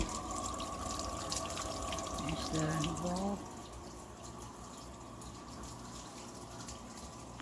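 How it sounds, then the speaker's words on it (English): A Python aquarium vacuum drains water from a fish tank with a steady close rushing gush that drops in level partway through, while a person talks briefly over it. "It's removing water from the tank"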